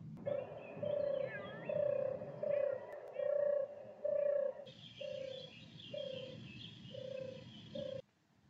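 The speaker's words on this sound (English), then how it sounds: "Turtle doves have a distinctive purring song." A turtle dove gives its purring song, a series of regular low rolling purrs repeated about ten times, fairly close, with a brief higher tone layered over the later phrases.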